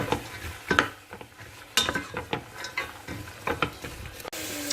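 Bolognese sauce being stirred in a pan, with soft scraping strokes of a utensil against the pan and occasional light clinks over a faint sizzle, close by.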